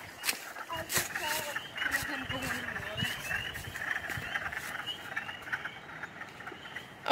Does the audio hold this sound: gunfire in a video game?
no